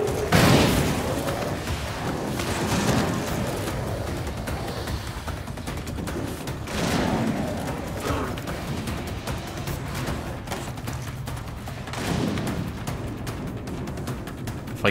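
Rockets and napalm grenades go off in the shooter game Solstice Chronicles as a dense, continuous barrage of booming blasts and crackling gunfire, with heavier explosions swelling every few seconds.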